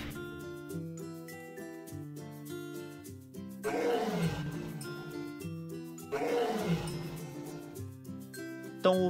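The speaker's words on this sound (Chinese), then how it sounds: "3号方块是一只雄狮。" A male lion's roar sound effect in a cartoon about transforming toy animal blocks bursts out twice over a steady playful music backing, each roar swelling loudly and then fading back under the melody.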